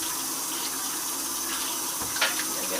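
Tap water runs steadily into a sink while dirt is rinsed off food, a constant close splashing hiss with a brief sharper splash near the end, no talking heard.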